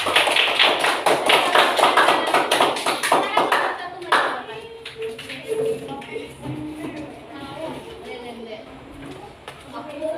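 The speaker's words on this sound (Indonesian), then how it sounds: "Tepuk tangan untuk kelompok 1." A group of people clapping in a classroom for the first group of students, dense rapid applause for about four seconds that then thins into scattered claps and shuffling, with voices talking underneath.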